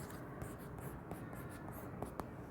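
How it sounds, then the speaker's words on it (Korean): Pen scratching across paper in steady, continuous strokes with small ticks as the tip lifts and lands, close and quiet against faint room hiss. "좀 예쁘게 써볼게요"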